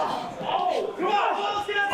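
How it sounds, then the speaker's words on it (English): A crowd at a women's wrestling match yells and roars loudly, with voices rising and falling in a continuous wall of cheering and shouting. "Crowd's yelling, rip her head off."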